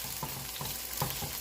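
Vegetables and mushrooms stir-fry in a pan for a spicy noodle dish, a steady low sizzle broken by a few soft scraping stirs of the spatula, close and fairly quiet.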